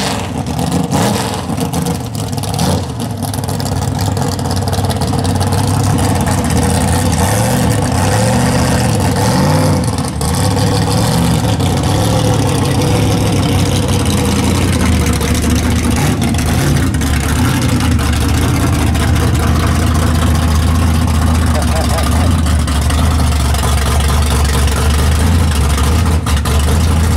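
A big block V8 in a 1957 car rumbles loud and close with a deep, steady low-end idle and slight uneven pulsing throughout, with no talking.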